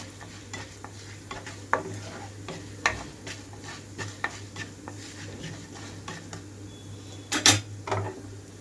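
Urad dal frying in oil with fenugreek, cumin and coriander seeds over a low flame, a soft steady sizzle broken by intermittent spoon scrapes and stirring clinks against the pan.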